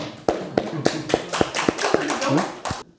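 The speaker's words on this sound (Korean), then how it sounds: "박수 한번 칩시다" An audience claps hands together in a lecture hall setting during a Buddhist study class, about ten sharp, fairly evenly spaced claps building into a brief round of applause before stopping abruptly.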